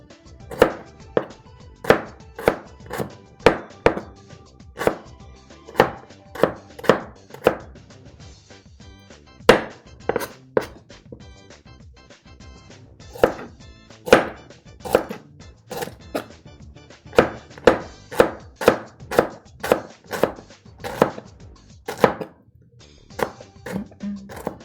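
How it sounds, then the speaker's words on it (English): A knife chops and shreds ingredients for okonomiyaki on a cutting board, sharp clacking strikes coming in quick bursts of several hits separated by short pauses, close and distinct over a quiet background. "I'm in the chopping zone here."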